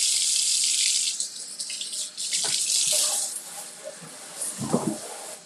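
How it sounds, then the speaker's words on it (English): Tap water runs hard into a kitchen sink while hands are washed, a bright steady hiss broken by brief splashes and drips as the flow is shifted and then stopped. "let me wash my hands"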